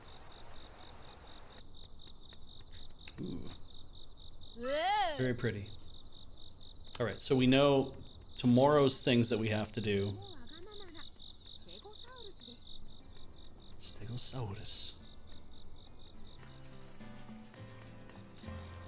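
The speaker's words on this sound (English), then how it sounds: "Noise you hear around the house at night is from the frogs." Nighttime frogs and insects in the Shin-chan summer vacation game, a continuous high trilling chorus that runs steadily throughout while several voices talk over it.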